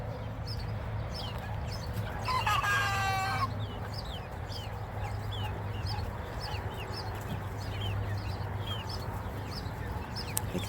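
A rooster crows once, loud and close, over a bed of softer clucking and other chicken calls among backyard planters; no one speaks.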